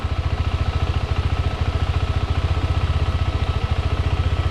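A KTM 390 Adventure motorcycle engine idles steadily up close, its low rapid thumping pulse unbroken throughout, with a faint whir over the top.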